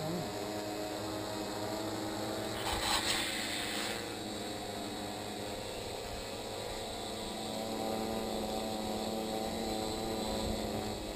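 A drone with 17-inch propellers flies on GPS hold in a light wind. It gives off a steady, loud whirring drone that holds constant throughout.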